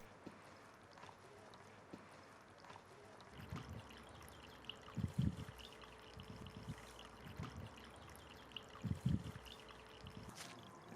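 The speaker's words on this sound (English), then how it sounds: "I put the garden hose in the top pool and observe how the water runs" Garden hose water running over stones into a pool of a garden stream water feature, a quiet steady trickle with intermittent soft splashes and gurgles.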